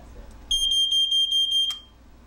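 A loud electronic smoke alarm beeps in a rapid pulsing pattern for about a second, sharp and high-pitched, then stops abruptly.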